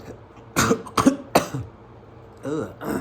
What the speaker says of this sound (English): That was a burp and a cough at the same time.